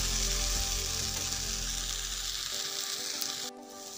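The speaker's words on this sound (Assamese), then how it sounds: "সৰকৈ ভাজি ল'ম। নালাগে, জুইটো বঢ়াই লৰাই আছোঁ।" Water spinach sizzling as it fries in a pan over raised heat, a loud continuous close hiss that eases slightly near the end, heard alone.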